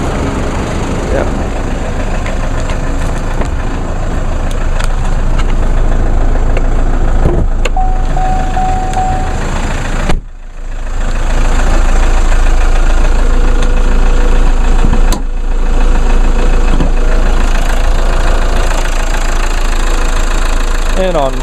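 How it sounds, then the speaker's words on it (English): A 2-liter four-cylinder turbo diesel car engine idles steadily after a cold start on a 23°F morning, a continuous close rumble with a brief dip partway through, while a person talks over it. "that is a 2-liter 4-cylinder turbo diesel that puts out 151 horsepower and 264 foot-pounds of torque"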